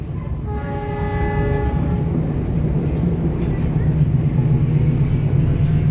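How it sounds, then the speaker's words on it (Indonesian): The Pangandaran passenger train passes through the long Sasaksaan railway tunnel in Indonesia, a loud steady rumble of wheels and carriages with a brief horn blast at the start. "Kereta api Pangandaran melintas di terowongan Sasaksaan, yang mana salah satu terowongan terpanjang kereta api di Indonesia."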